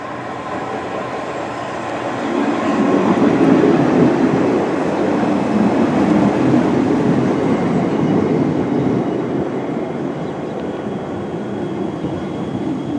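A Class 450 electric train pulls into Brockenhurst station, a loud rumbling roar that builds from a steady hum, peaks with wheels and carriages rolling close by, then eases as it slows, with no talking.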